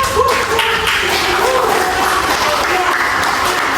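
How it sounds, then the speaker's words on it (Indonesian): An audience claps hands in a church gathering, loud dense applause mixed with overlapping voices and a sung or called tone running through the crowd noise. "Ibu kita semua tepuk tangan dong"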